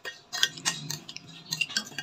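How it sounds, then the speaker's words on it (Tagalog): A spoon stirs the ingredients of a chili and vinegar dipping sauce in a bowl, giving light, irregular clinks and scrapes close by, with no talking. "So, haluin na natin ngayon yung mga ingredients."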